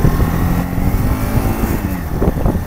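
A motorcycle engine droning loud and close while being ridden, a continuous rough low rumble with slight shifts in pitch and no talking.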